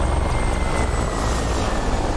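A video game helicopter flies with a loud, constant rotor and engine roar that holds steady and close throughout, a faint whining tone running over it and no voices.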